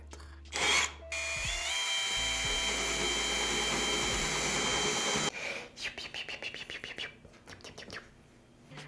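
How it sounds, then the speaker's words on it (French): A power drill bores a hole for installing shower glass panels, running loud and steady for about four seconds after a brief burst, then giving way to rough scraping. "Ça va mieux pour rentrer après ça la mèche dans le trou."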